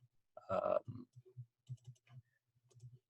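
A short sequence of soft computer mouse clicks on a chatbot button, each click small and close, spaced irregularly with a brief breathy sound near the start and no speech.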